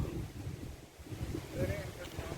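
Cold wind blows steadily outdoors, rumbling and buffeting against the microphone in uneven gusts, with a faint voice underneath.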